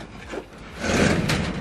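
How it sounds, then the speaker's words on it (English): A steel garden shed door slides along its plastic rail, giving a short rough scraping rumble that swells and holds steady near the end, close up and loud. "Now, so you need to slide the door."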